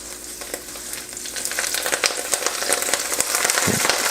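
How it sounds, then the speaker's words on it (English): Steady crackling sizzle of kale frying with garlic in a hot pan, with bursts of popping and occasional stirring scrapes, loud and close. "Kale's going into the pan with the sizzling garlic."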